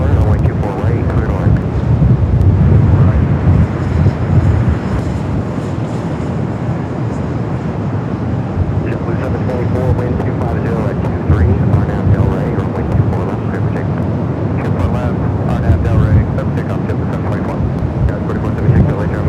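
Airliner on short final into Los Angeles LAX in gusty wind, a heavy low roar rumbling steadily throughout, mixed with wind buffeting against the microphone, while people talk over it.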